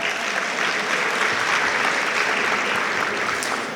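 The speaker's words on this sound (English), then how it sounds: "Let's hear a round of applause for them tonight." Guests at an Orange County real estate event applaud the sponsors with a thick, steady wash of clapping that holds at an even level throughout.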